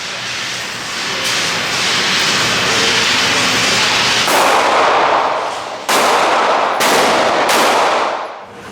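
Rifle shots ring out at an outdoor shooting range, several sharp loud reports in quick succession near the end over a constant broad hiss, close to the listener, with no talk.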